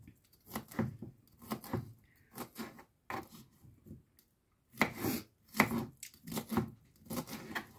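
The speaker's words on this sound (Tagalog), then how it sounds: "Ang gagawin ko dito, kita nyo guys, hiwain ko lang siya." A knife slicing through a pineapple, a series of close, soft crunching cuts in short bursts separated by brief pauses, fairly quiet, with no speech.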